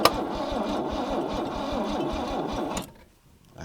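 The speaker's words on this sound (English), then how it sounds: "Crank her over, Bruss." Starter cranking the engine of an abandoned Mercedes-Benz with a weakening battery, a rapid, rhythmic chugging whir close by for nearly three seconds before cutting off into quiet.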